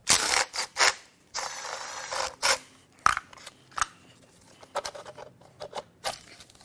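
Bolt being removed to pull the intake manifold off a BMW N55 engine during a teardown, with close, sharp bursts of ratcheting and metallic clicks in an uneven rhythm and no voices.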